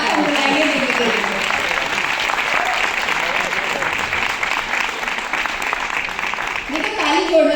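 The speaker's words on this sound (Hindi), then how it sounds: "तो जोरदार तालियों के साथ हम बुलाएंगे देखते हैं।" An audience at a business talk applauds in a dense, steady wash of many hands clapping, holding at a loud, even level with a voice rising over it near the end.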